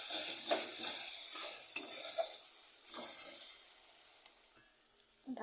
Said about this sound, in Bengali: মশলাগুলো আমি কষে নেবো ভালো করে।